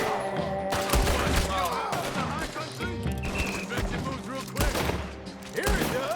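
Gunfire in the Red Dead Redemption II video game, a dense volley of shots crackling steadily over a busy game soundscape with music and effects, with voices speaking at times.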